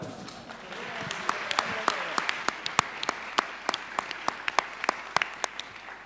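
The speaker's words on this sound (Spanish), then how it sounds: "Un aplauso," An audience claps at a live stage event, a steady wash of applause with sharp individual claps standing out, sustained for several seconds under a faint voice.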